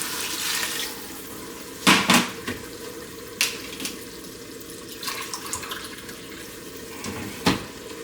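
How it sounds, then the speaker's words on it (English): White vinegar poured into a cooking pot for pickled eggs, heard as a few short splashing pours and clinks over a faint steady background hiss, close by and with no talk. "So we need to add 4 cups of white vinegar."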